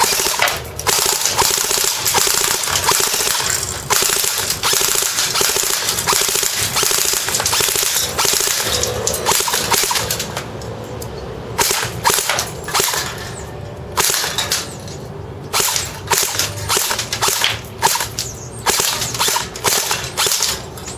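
An ICS Sig 552 airsoft rifle fires full auto at a can about ten feet away: long, rapid rattling bursts, close and loud, that break into shorter bursts with brief gaps toward the end.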